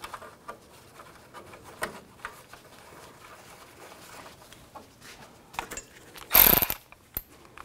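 Ratchet snugging headlight bezel bolts on a 1992-or-later Ford E-250 van: light scattered tool clicks and handling noises, then one short, loud ratcheting burst near the end.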